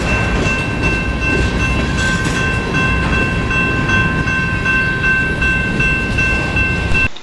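A train rumbles steadily past at close range in Whitefish, its wheels clattering along the rails, with a sustained horn tone held over the noise.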